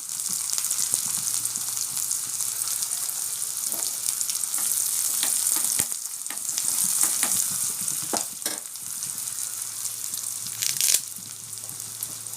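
Onion frying in hot oil with mustard seeds and dried chillies, tempering for a home-style dal: a steady, close sizzle with crackling pops and occasional spoon scrapes throughout, no talking.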